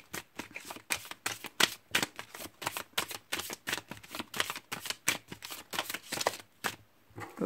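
A deck of cards riffled and flipped in quick, regular bursts, close and crisp, about twenty distinct rustling strokes with no voices over them.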